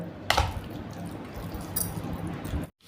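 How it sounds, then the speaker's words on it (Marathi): Hot ghee tempering with cumin, peanuts and curry leaves is poured over fasting curd rice, giving a short splashing sizzle near the start and another brief burst later over a soft wet background. "आणि वरतून याला फोडणी घालूयात"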